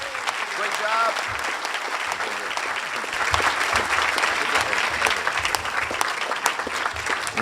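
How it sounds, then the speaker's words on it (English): A large audience bursts into loud, sustained applause for the Illinois Senate president, a continuous crackle of many hands clapping, with a voice briefly audible at the start. "how about a big round of applause?"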